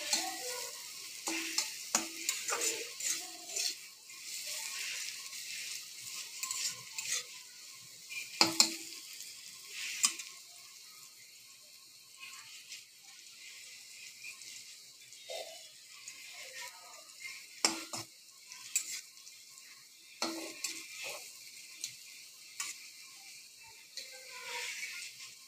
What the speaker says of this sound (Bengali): আলু ভাজা, তেল দিয়েছি, তেলের ওপরে লঙ্কা দিয়েছি,